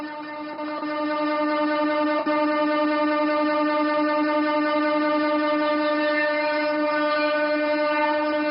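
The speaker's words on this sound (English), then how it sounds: "invite the Honorable Prime Minister to flag off the Palakkad-Pollachi train service." Sustained train horn at Palakkad railway station as the Palakkad-Pollachi train service is flagged off, a loud steady multi-tone blast that holds for the whole stretch with no talk over it.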